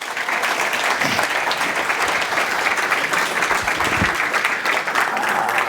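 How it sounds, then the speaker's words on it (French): Sustained applause from an audience thanking a panel of experts at a diocesan synod evening at FUCaM in Mons, dense clapping holding steady and loud for several seconds. "Je vous propose encore de les applaudir."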